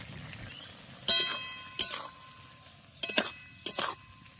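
Pre-fried pond snails tipped into a pan of soft spring onions, giving four sharp metallic clinks and scrapes of a utensil against the pan, spaced a second or so apart over a quiet background.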